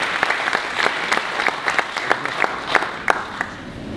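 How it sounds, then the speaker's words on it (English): An audience at a chamber of commerce general meeting applauds guests of honor, steady moderate clapping with a few sharper individual claps standing out. "these gentlemen truly deserve a round of applause"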